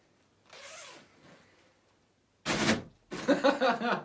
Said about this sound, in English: Wait, we'll hear the zip